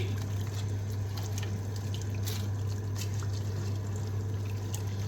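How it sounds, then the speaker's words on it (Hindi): Plain tap water pours steadily into a pot of meat being cooked for shami kabab, a continuous close splashing fill with no voices and a low steady hum beneath. "I am just going to add water, simple water, any tap water."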